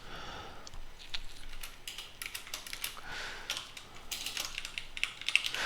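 Quiet rapid typing on a computer keyboard, a steady patter of soft key clicks continuing throughout with no voices.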